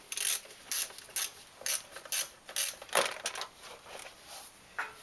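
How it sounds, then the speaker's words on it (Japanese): Ratchet wrench loosening two 10 mm bolts on the intake manifold cover of a BMW Z4 E85 engine, giving rapid repeated clicking bursts in a steady rhythm, close and fairly quiet, with no talking. "でここ 10mm のボルトで緩めます。"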